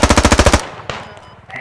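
A heavy machine gun in the video game Squad fires a rapid burst of about ten loud close shots, then stops, leaving echoing tail and faint background activity.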